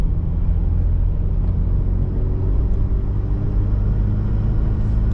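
A Mazda RX-8 with a rotary engine cruises in 4th gear at about 30 mph and 2100 RPM, its low, smooth, steady rumble filling the cabin without any revving or talk.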